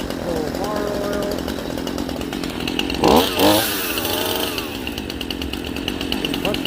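A small Stihl chainsaw runs, a steady buzzing engine drone that revs up sharply for a moment near the middle before settling back to idle, heard close with a voice talking over it.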